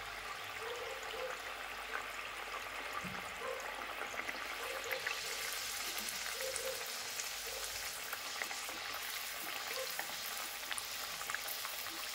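Pumpkin vade deep-frying in hot oil, a steady dense sizzle and bubbling that runs throughout at an even level and grows slightly brighter partway through, with no one speaking.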